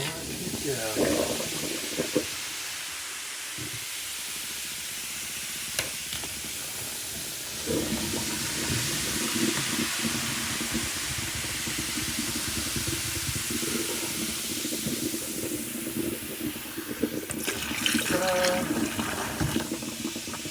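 Vinegar poured through a grate into a clogged drain, giving a steady pouring, fizzing hiss of liquid that runs for about twenty seconds without a break.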